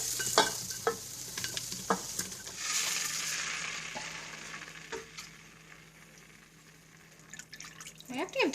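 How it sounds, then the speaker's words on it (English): Sliced kielbasa sausage and onions fry in a nonstick pan while a spoon stirs them, with scraping strokes and a soft sizzle beneath, and a person speaks over parts of it. "You can just stir that in now and cook it for a few more minutes."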